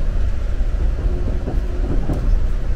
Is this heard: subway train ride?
yes